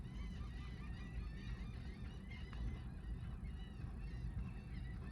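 A flock of gulls cries and squawks continuously over a low rumbling wind or surf, the calls overlapping and fairly distant.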